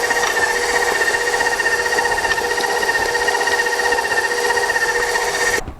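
An electric mixer on medium speed churns peanut butter cookie dough with an egg, a loud, steady whirring hum that runs continuously before cutting off abruptly at the end.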